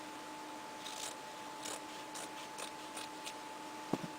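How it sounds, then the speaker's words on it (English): Scissors make a series of short, crisp snips through fabric at a steady pace, close and fairly quiet over a faint background hum. "that's kind of where I'm going to cut the fabric, is right here"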